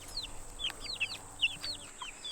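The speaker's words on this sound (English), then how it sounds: "we've hatched lots of chickens and ducks this year" Soft chirpy peeps and clucks from several chickens nearby, a quick scattered series of short calls over a quiet background.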